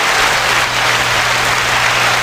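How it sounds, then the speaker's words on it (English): A steady wash of applause from a group fills the whole moment, dense and even with no single claps standing out and no voices over it. "Can I get a round of applause"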